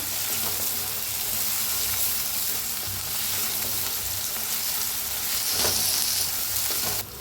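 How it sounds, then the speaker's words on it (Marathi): Drumstick pods being stirred and fried with onion and green chilli in a pan, a steady loud sizzle with scraping stir strokes throughout, nearby and without talk. "आता कांदा छान भाजलेला आहे, हिरवी मिरची, आता ही भाजी याच्यात मिक्स करायची।"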